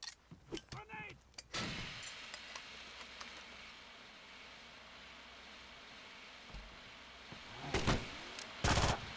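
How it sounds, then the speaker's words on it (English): A grenade blast and bursts of gunfire in the tactical shooter Rainbow Six 3: Raven Shield, with sharp clustered shots at the start, a long rumbling decay, then more loud shots near the end. "Grenade!"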